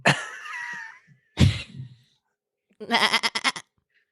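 A sheep gives a few bleats: a long wavering cry, then a short throaty one after a pause, and finally a rapid stuttering bleat, all close and fairly loud with silence between.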